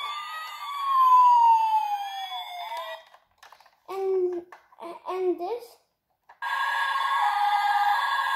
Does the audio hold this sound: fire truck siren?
yes